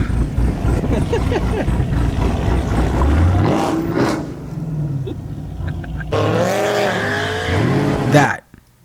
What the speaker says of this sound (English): That was definitely a burnout. Did you hear the squealing?